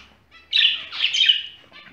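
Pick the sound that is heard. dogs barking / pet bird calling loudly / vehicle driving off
pet bird calling loudly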